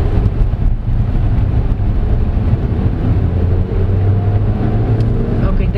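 Steady road and tire roar from inside a 2022 Changan Alsvin Platinum DCT subcompact sedan driving over rough patches, a continuous low rumble with some wind noise, loud throughout.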